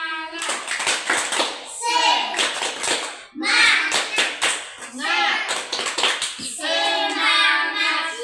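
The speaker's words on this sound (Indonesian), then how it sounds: "kita tepuk semangat dulu." Young preschool children perform a rhythmic clap-along chant in a classroom, bursts of sharp hand claps alternating with their loud sung voices in a lively call-and-response pattern.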